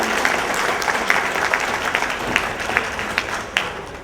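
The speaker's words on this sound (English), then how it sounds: "I think we ought to give him a round of applause" Loud, close applause from guests at a fund-raising gala, many hands clapping with sharp individual claps standing out against the steady wash, sustained for several seconds.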